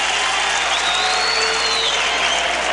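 A US Open tennis crowd in 2002 roars with sustained cheering and applause, a dense, loud wash of voices and clapping that holds steady throughout with a few whistles rising above it.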